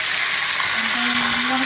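Steak marinade juice sizzles steadily in a hot pan, a loud, continuous hiss close by.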